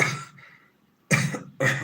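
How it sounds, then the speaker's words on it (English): Three short, shallow coughs, close by: one, then a pause, then two in quick succession. "that was a shallow cough"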